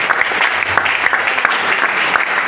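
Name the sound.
congregation applauding loudly in church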